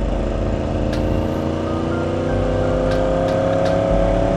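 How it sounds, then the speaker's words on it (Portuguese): A Kawasaki Ninja 1000 motorcycle with a modified exhaust runs close by, its engine holding a loud, steady, rumbling drone through the whole stretch with no voices. "O Charles fez uma, um esquema no escapamento dele que eu vou até filmar agora"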